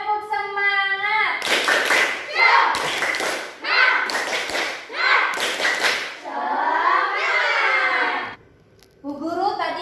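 A school class performs a rhythmic spirit clap, chanting children's voices alternating with bursts of loud unison hand clapping in a repeating pattern, ending in a short pause before more chanting.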